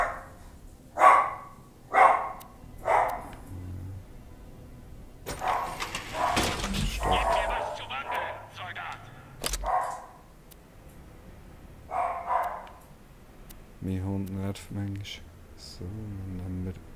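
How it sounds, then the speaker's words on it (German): A dog barks at close range in a room during a Borderlands: The Pre-Sequel gaming session, with a few single barks early and a quick run of barks near the end, and people talking in between. "Ah, mein Hund wieder."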